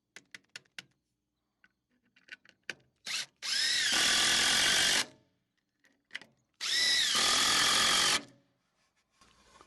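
A power drill drives 4-inch screws into poplar wood, two sustained whirring bursts of a few seconds each, separated by quiet handling clicks and taps.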